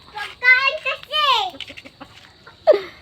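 Chickens clucking in a backyard, a few short clucks and a squawk mixed with a voice and talking close by.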